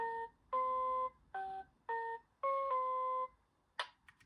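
A toy keyboard plays a preview of one of its built-in songs: a short, bright electronic melody of separate beeping notes in an uneven rhythm, ending in a brief higher chime. It is close and clear, with no talking.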